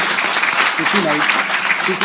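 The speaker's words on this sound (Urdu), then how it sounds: "ان کے لیے تالیاں بجائیں" At a Dastangoi storytelling performance on Amir Khusro in Abu Dhabi, an audience applauds in a dense, steady wash while a voice talks over the clapping.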